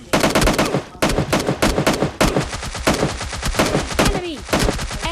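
Rapid bursts of automatic gunfire from the mobile shooter game PUBG Mobile Lite crackle loudly and close, in dense strings of shots broken by short pauses.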